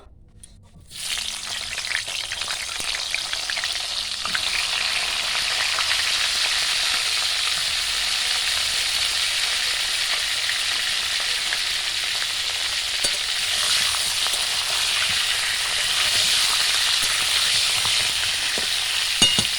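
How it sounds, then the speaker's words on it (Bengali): Cauliflower florets fried in oil left over from frying potatoes, making a steady, loud, continuous sizzle that starts abruptly as they go in and holds for the whole stretch, with faint occasional stirring. "আলু ভাজার তেলে ফুলকপিগুলোও ভেজে নেব।"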